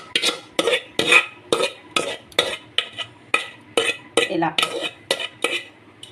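A spoon stirs gongura leaves into a prawn curry in a pan, about fourteen quick, even scraping strokes in a steady rhythm, close and clear, with a brief spoken word.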